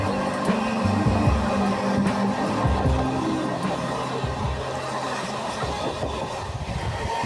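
A MEMU passenger local train running at speed on the Sealdah to Barddhaman line gives a loud, continuous rumble and rattle of wheels and carriages from onboard, with low rolling tones throughout and no talk.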